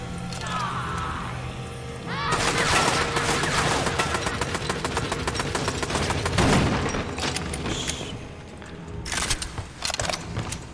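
Rapid, loud gunfire in the video game Bendy and the Dark Revival crackles in a dense volley of sharp shots that carries through most of the scene, then breaks into a few sparser bursts.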